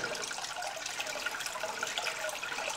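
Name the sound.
water filling aquarium tank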